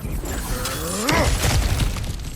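Cracked ground shatters under a heavy blow in God of War Ragnarök, a loud crunching break with rising tonal debris sounds and rumbling rubble settling afterward.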